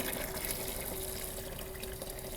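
Water runs steadily through a rinse column, a continuous close rush with a faint steady hum underneath and no pauses.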